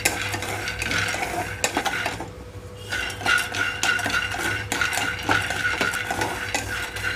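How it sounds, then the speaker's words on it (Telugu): Peanuts roast over a low flame in a hot pan for a raw-tamarind chutney, with a dry rattling stir and frequent metallic scrapes and clinks of a spoon against the pan, pausing briefly midway. "పాన్ హీట్ అయిన తర్వాత పల్లీలు వేసి వేయించుకుంటున్నాను"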